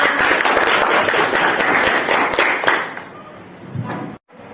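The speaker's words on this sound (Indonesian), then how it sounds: "Tepuk tangan untuk teman-teman" Students in an Islamic religious education class clap for their classmates, a loud burst of group applause that thins out after about three seconds before a brief cutoff.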